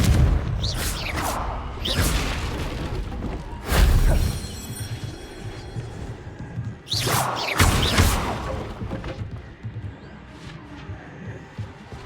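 Repeated spell blasts from Confringo in the video game Hogwarts Legacy burst out as loud booming explosions with crackling, shattering tails, two strong hits around four and seven to eight seconds among smaller whooshes, no talking.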